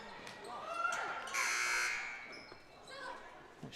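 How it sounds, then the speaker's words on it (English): A buzzer sounds during a Carthage vs Lowville high school basketball game in a gym, a steady, bright blare lasting about half a second amid arena noise, with a voice talking over the scene. "Why are they ringing the buzzer?"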